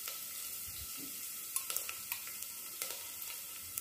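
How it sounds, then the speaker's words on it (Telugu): Garlic and ginger frying in a pan, a faint, soft sizzle with scattered light clicks and scrapes of stirring, close by, with no talking. "అవి కొంచెం ఫ్రై అయిన తర్వాత అల్లం కూడా వేసుకోవాలండి"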